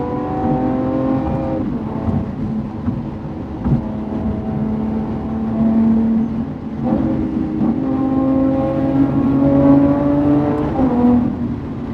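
A Lamborghini V12 accelerates hard with paddle-shift gear changes, its loud rising engine note climbing through several upshifts in a row, heard from inside the car with no talk.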